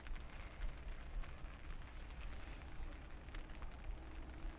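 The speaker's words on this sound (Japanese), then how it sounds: "晴れで、しかも風もなしって予報だったのに雨が降ってきた" Rain falling outside a tent on a camping and fishing trip, a faint, steady hiss of drops with scattered soft taps and no voices.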